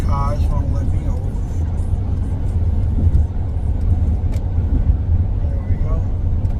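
Road traffic on a highway with trucks broken down nearby, a steady low rumble of cars and engines running throughout, close and constant, with a person talking over it at times.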